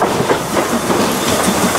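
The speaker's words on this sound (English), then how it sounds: "Ferdinand's makes a majestic departure along the narrow-gauge tracks" Narrow-gauge train on the Gulbene-Aluksne line in Latvia pulling away along the tracks, a loud continuous rumble and rattle with a hissy wash, close and steady throughout with no voices.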